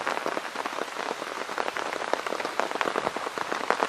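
Heavy rain drums steadily on a tent, a dense close patter of countless drops with sharper individual hits scattered throughout, no voices.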